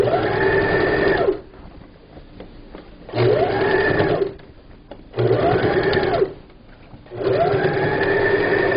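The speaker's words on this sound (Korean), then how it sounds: "이렇게 엎어놓고 박음질 하시면 됩니다" Sewing machine stitching a fabric table cover, running in steady loud bursts of about a second or two each with short pauses between, its whirring motor and rapid needle chatter close up.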